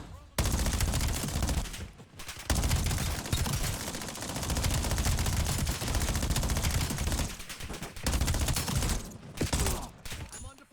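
Loud, dense bursts of automatic gunfire in Call of Duty Black Ops 7, rattling almost without a break and stopping only for brief pauses.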